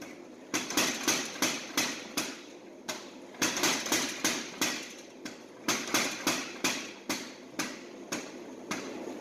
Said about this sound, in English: It's a mechanical hammer. Hits with 50 pounds of force and just runs all day long.